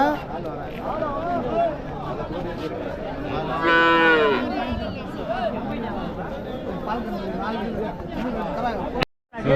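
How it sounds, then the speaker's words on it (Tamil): A cow lets out a loud moo amid the steady chatter of many people at a busy open cattle market in Vaniyambadi, with voices talking throughout. "ஸோ ரெண்டு ஏறு மாடு கொண்டு வந்திருக்காங்க"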